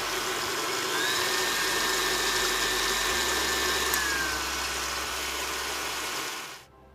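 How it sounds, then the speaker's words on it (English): An electric hand mixer whips egg whites for meringue at medium speed, a steady close motor whine with a faint higher tone that runs alone and winds down at the end. "we're going to mix this on medium speed until it turns frothy"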